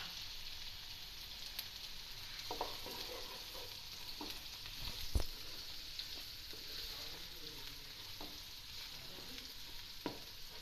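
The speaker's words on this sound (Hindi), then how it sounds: "अब हम इसमें प्याज डालते हैं, इसको हल्का सा ब्राउन करेंगे।" Onions frying with potatoes and eggplant in a pan for spicy aloo baingan, a soft, steady sizzle with occasional scrapes and clinks of a stirring spoon, fairly quiet, with no talking.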